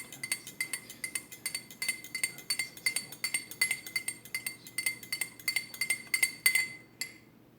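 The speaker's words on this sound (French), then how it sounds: "Et je prends une fourchette. Je fais 20 tours." A fork stirring a fruit juice mixture for gelée in a glass, clinking against the sides in a quick, even series of about twenty bright taps, close and clear, ending with a final tap.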